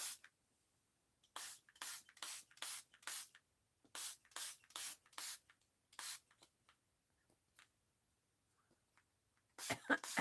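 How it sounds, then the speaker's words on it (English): Spray bottle misting walnut ink onto an art journal page, two quick bursts of about five sharp hissing pumps each, then a few single sprays, close and clear with no talking. "This walnut ink dries lighter, so I do like to get a good mist on it."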